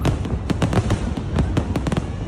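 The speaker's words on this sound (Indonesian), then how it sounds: "firework." Fireworks burst rapidly and continuously at a Malaysian Merdeka celebration, a dense crackling barrage of sharp pops and booms packed closely together, loud throughout.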